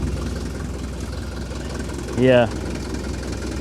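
An old-school diesel engine idles steadily on its own with the throttle released, a low even rumble close by, briefly interrupted by a short spoken word.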